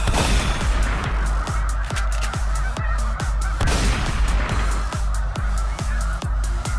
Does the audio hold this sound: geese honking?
yes